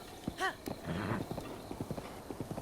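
Epona, the horse in Zelda: Breath of the Wild, gives a short whinny, then her hooves clip-clop in a steady trotting rhythm, close and clear.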